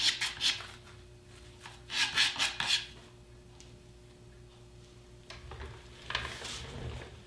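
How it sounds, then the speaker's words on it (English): Wooden trapezoid segments are sanded by hand with 220 grit sandpaper, giving close, quiet rasping strokes in short bursts with pauses between them and no talking. "I'm using some 220 grit sandpaper."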